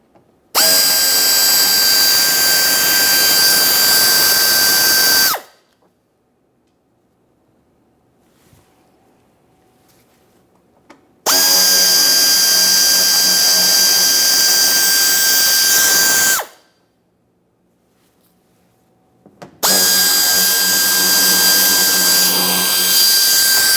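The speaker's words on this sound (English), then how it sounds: "using a T15 to remove all 3 of these mounting bolt screws" A power drill fitted with a T15 bit backs out headlight mounting screws on a 2017-2024 GMC Acadia, running in three long, steady high-pitched whirring bursts of about five seconds each, separated by near-silent pauses.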